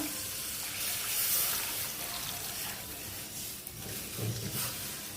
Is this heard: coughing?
no